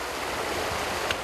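Sea waves wash against coastal rocks on the shore at Jindo, where wild seaweed is harvested, a continuous rushing surge of water with a brief splash near the end and no voices.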